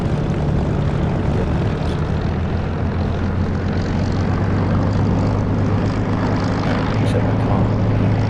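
A propeller aircraft engine in the DCS flight simulator drones loud and steady with a constant low hum throughout, while a voice talks briefly over it.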